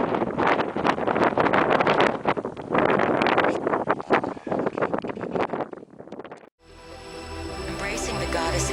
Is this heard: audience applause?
no